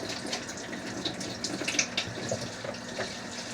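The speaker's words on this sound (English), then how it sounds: "Let me wash my hands here really quickly." Hands are rinsed under a running kitchen tap while lasagna is being made, giving a steady close hiss and splatter of water with small splashy fluctuations and no speech.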